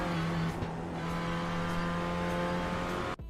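A Renault Clio Cup race car engine drones loud and close on the Knockhill circuit, a steady high-revving note holding throughout before cutting abruptly near the end.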